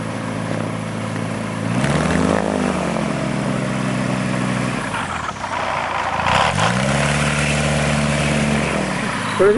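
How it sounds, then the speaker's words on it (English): A small propeller aircraft engine drones loudly and close, revving up and down in two rising-and-falling sweeps over a steady roar during a full engine run-up check at Karad Airstrip. "This is a taxi check and full engine run-up check."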